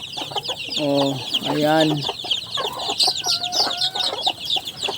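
Chickens and chicks cluck and cheep at feeding time, close and busy, with a short crow-like call early on and a voice speaking briefly over the birds.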